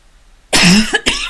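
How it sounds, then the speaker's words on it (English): A sharp, close cough breaking out of near silence, followed by a second shorter cough, harsh and loud, with no speech. "Excuse me, coughing."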